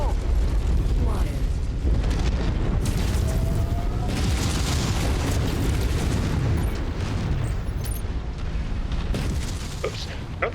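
A mech in MechWarrior 5 goes critical and explodes amid loud, dense battle rumble, with heavy booms and mechanical clatter over a sustained roar, plus scattered sharp bursts near the end.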